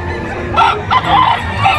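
Gamecock roosters at a busy expo sale call out in short, close bursts over a steady crowd background.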